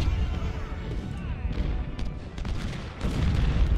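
Musket volleys and cannon fire rumble from an Ultimate General Civil War battle, a dense run of crackling shots and deep booms in quick succession, loud and close.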